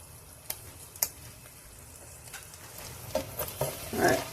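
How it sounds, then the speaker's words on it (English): Eggs frying on high heat on a flat top electric griddle, a soft steady sizzle with occasional sharp pops and spatters that grow busier toward the end, heard alone without talk. "Usually with eggs, if you want them cooked like super fast, you got to turn that heat up real high."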